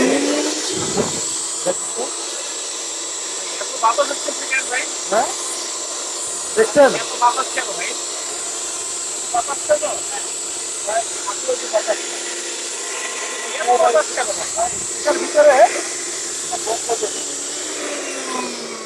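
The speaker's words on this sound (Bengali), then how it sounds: "এবার আর একটা জিনিস দেখাই আমি এই ব্লেন্ডারটা ছাড়িয়ে" An electric kitchen blender runs with a steady motor whine and hum throughout, while someone talks intermittently over it.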